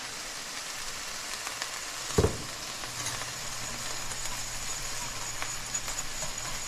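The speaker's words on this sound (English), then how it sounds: "just whisk like crazy to break up all that roux particles that clumped up and seized up" Roux is whisked into braising jus for braised beef with sour onions in a pan, making a steady frying sizzle with light stirring scrapes and one brief clunk, close and continuous throughout.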